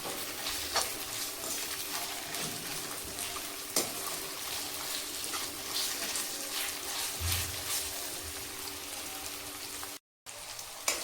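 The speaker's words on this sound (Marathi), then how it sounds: "त्यामध्ये मी 2 चमचे अद्रक लसूण पेस्ट टाकते। ही पण चांगली परतवून घेते।" Ginger garlic paste sautés in a pan over fried onions for paneer pulao, giving a steady crackling sizzle close by that runs without a break for about ten seconds, with a few soft stirring knocks.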